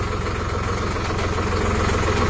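A tractor engine idles and runs steadily, with a continuous low mechanical rumble and slight vibration close by and no other sounds.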